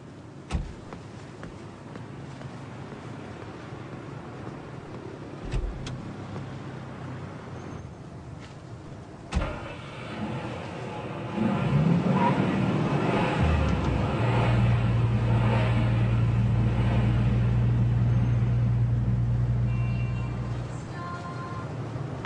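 A car engine starts and rises into a steady, loud running drone after a door-like thump, the vehicle pulling away from a residential street setting.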